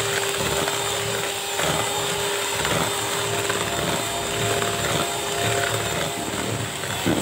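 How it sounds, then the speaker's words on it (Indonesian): An electric mixer whirs at high speed through sweet potato steamed sponge cake batter of eggs, sugar and emulsifier, giving a loud, steady motor drone with a grainy churning texture that runs unbroken from start to end. "Lalu mixer dengan kecepatan tinggi."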